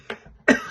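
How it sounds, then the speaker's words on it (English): A single short cough from a man mid-speech, preceded by a faint throat sound, close to the microphone. "cough"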